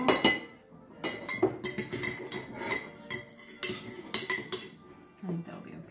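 A spoon clinks and scrapes against a cup while stirring an egg in dye during Easter egg coloring, giving irregular bright taps and rattles at close range between quiet gaps.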